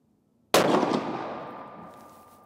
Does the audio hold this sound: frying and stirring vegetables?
no